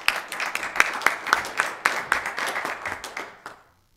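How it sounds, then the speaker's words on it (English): Audience applause after an academic law presentation, a burst of sharp, closely packed claps from a small group that thins out and stops abruptly near the end. "let's give a round of applause for Mr. Alexander."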